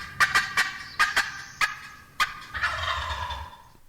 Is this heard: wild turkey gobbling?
yes